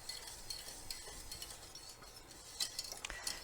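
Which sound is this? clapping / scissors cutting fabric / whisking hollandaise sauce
whisking hollandaise sauce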